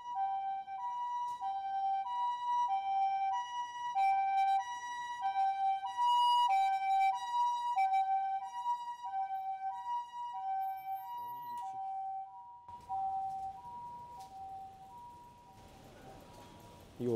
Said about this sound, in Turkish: Aa, yine ambulans geliyor.